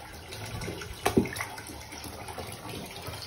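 Tap water running steadily into a bathtub at home, a continuous close wash of splashing with a couple of brief louder clunks near the middle, no talk.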